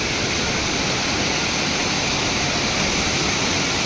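Sawdav waterfall roars as water pours down, a loud, steady, close wash of broadband noise with no pauses.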